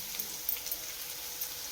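Onions fry in a pan with a steady, faint, even sizzle and soft crackles, heard alone.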